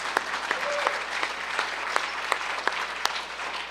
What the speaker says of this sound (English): yeah, you can applaud not giving up